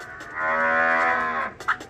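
A cow moos once in a long, loud, drawn-out low call lasting over a second, close by, followed by a brief softer sound; no talking.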